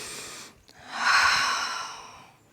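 Deep breathing during a fluid, dance-like yoga flow: a short exhale, a brief pause, then a long, full inhale through the nose, close and breathy, fading out gradually.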